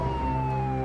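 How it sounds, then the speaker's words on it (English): An ambulance siren wails at a busy shore scene as ambulances rush wounded from a capsized ferry toward hospitals: a sustained, slowly falling tone over low rumbling traffic noise. "On shore, 35 ambulances rush the wounded to nearby hospitals."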